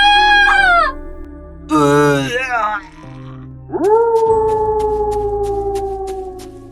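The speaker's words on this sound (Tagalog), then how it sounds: "May mga asong gubat na papalapit." Wild forest dogs approach, howling in long, rising and sustained wails that come in three drawn-out bursts, loud and close, with the last howl the longest.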